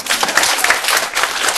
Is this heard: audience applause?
yes